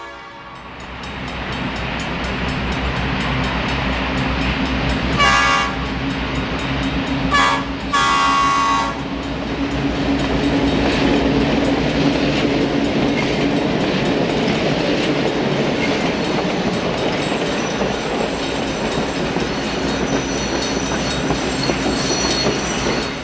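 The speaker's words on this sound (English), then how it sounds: "At Plymouth, a C&O E7 arrives with another day's run of the southbound Cincinnatian." A C&O E7 diesel locomotive arrives at Plymouth with the southbound Cincinnatian passenger train, its steady rumble and wheel noise filling the scene, broken by a couple of short horn blasts partway through.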